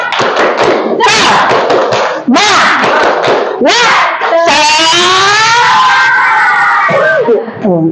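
Students stand and perform the rhythmic 'tepuk semangat' clapping chant in a classroom, sharp clap bursts alternating with loud shouted chanting voices, close and energetic, with a teacher's voice leading.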